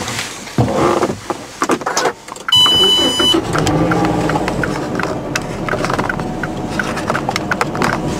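Car interior on a drive to a Russian shop in Bonn, with rumbling road and engine noise throughout, a brief clicking tone near the start, and steady movement sound with no voices.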